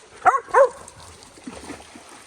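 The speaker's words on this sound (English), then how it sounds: "Raven, that's enough. No barking." A dog barks twice in quick succession near the water's edge while other dogs swim, followed by quieter yips and whimpers over faint background noise.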